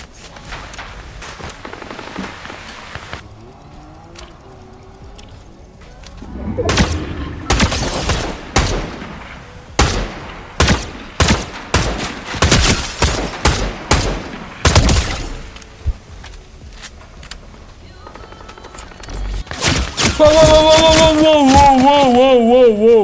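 Gunfire in the Fortnite video game: a quiet lull, then repeated loud shots and bursts at irregular intervals, several rapid volleys, ending in a sustained, loud stretch of fire with other game effects.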